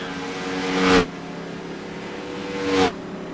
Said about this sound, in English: Woody Mahan bringing his car down into the pits.